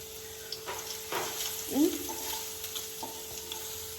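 Garlic crackles and sizzles in a hot pan, a steady close frying hiss with a couple of short scraping stir sounds and faint knocks over it.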